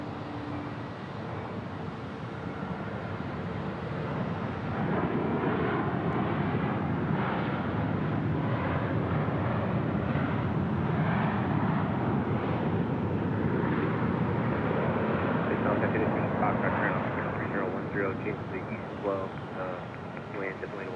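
Southwest Airlines airliner at Phoenix Sky Harbor airport at night, a broad, sustained jet engine roar that swells and then slowly eases over about twenty seconds, with a person talking over it.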